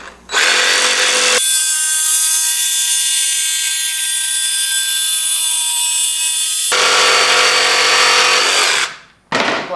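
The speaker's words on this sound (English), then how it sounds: "So we're gonna take our jigsaw." A jigsaw saws through a wooden panel for a four-season van wall build in a loud, close, continuous buzzing whine. The cut runs without a break except for a brief dip near the end, and no one speaks.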